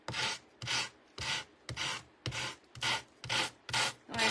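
A piece of wood sanded by hand, eight steady rasping back-and-forth strokes at an even rhythm, close and fairly quiet with short gaps between passes and no talking.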